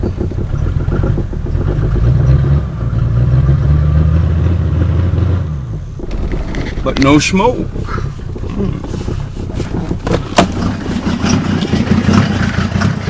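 A 1990 Mercedes 300D diesel engine with no catalytic converter or muffler runs loud and rough at a cold start, a steady low clattering drone that keeps going under a voice.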